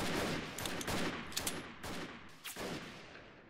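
Gunfire in the video game Freeman: Guerrilla Warfare, a chaotic fusillade of overlapping rifle shots and bursts at moderate distance, irregular cracks coming in clusters over a noisy battlefield background.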